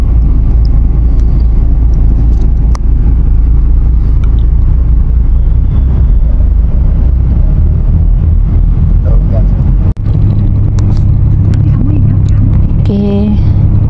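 Inside an intercity bus pulling in at Gombak bus station on the way from Bandar Tasik Selatan to Terengganu, a loud constant engine rumble and cabin drone fill the cabin, with a sharp knock and faint voices near the end.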